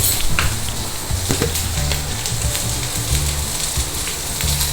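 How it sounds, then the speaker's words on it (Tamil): Broad beans sautéing in a hot pan, a continuous loud sizzle with crackling pops and occasional clinks of stirring, steady from start to finish with no talking. "அவரைக்காய் வதங்கட்டும்."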